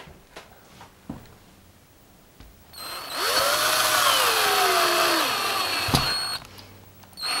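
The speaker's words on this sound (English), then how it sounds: "I'm going to use my cordless drill this time." Cordless drill boring into a lath and plaster wall: after a few faint knocks, the motor whines loudly and steadily for about three seconds, its pitch dipping and rising under load, then stops.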